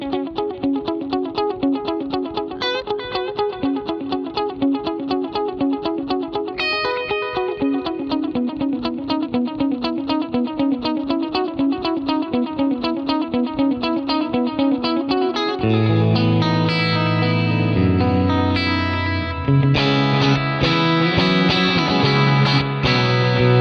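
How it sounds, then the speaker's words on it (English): Axe-Fx III guitar preset with 500 ms and 375 ms delays and detuners in the cross-feedback paths, playing a continuous shimmering, repeating guitar line with dense echoing layers, loud and full throughout, shifting to a thicker passage near the end. "So we have 500 milliseconds of delay here, 375 milliseconds."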